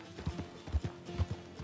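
Horse hooves clip-clop at an uneven walking pace in Red Dead Redemption 2, a handful of soft, close thuds over a quiet backdrop with no talking.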